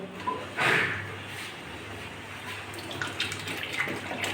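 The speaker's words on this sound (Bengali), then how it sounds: "এখন আমি জলটা দিয়ে দেবো" Water poured into a pot of cooking raw mango chutney, a short close splash and gush followed by a softer steady trickle and bubbling.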